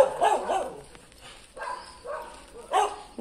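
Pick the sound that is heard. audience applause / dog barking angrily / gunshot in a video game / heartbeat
dog barking angrily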